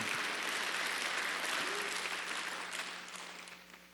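A church congregation claps together during a Sunday worship service, a dense, full round of applause that holds steady and then slowly fades over about four seconds.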